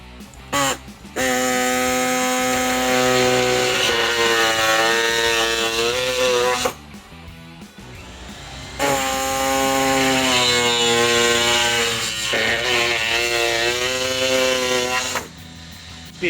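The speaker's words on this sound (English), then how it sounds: "Speed of the saw picked up as I got through that second layer" A power saw cuts a snorkel hole through the double-layer body panel of a Jeep Gladiator JT, whining steadily in two long, loud bursts of several seconds each with a short pause between.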